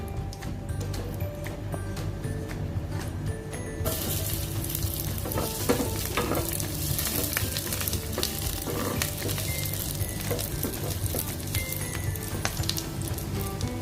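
Garlic dropped into a hot pan for chicken feet adobo sizzles continuously, the crackle swelling louder after the first few seconds and carrying on steadily, with faint clinks and stirring scrapes.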